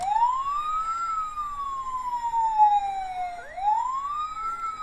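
A Majorette plastic toy fire engine siren wails up and down in long electronic sweeps, loud and close, restarting once partway through.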